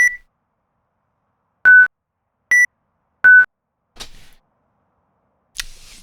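Sound Shift add-on alerts for the iRacing sim: clean electronic beeps in quick succession, a few short tonal bleeps at slightly different pitches separated by silence, followed by softer brief clicks, with no voice over them.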